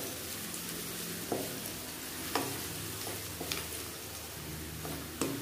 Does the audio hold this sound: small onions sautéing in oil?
yes